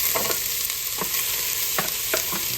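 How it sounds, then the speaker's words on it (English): Onions fry in hot olive oil in a pot for homemade marinara sauce, giving a dense, constant sizzle up close, with occasional stirring scrapes rising above the hiss. "We're gonna add our onions to this."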